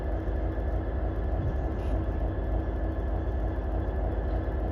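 An Avanti West Coast service to Liverpool Lime Street from London Euston rumbles steadily through Crewe station on the West Coast Main Line, a continuous low rolling drone at moderate distance with no voices.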